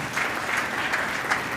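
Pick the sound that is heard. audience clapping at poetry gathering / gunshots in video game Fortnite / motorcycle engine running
audience clapping at poetry gathering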